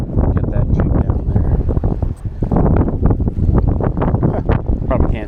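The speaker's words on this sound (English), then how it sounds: "A little breezy." Wind buffets a small fishing boat on the Gulf Coast in winter, a loud, continuous rushing roar pressing on the microphone throughout with no break.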